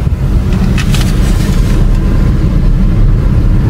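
A car engine runs steadily at close range while the clutch is released as a first-time driver moves off, a loud, constant low rumble with no talk over it.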